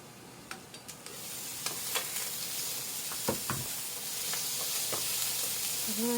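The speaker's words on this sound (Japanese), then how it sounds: "その間に野菜も炒まりました。" Vegetables stir-frying in a pan, a steady close sizzle with scattered crackles and scraping stirs throughout, no voices.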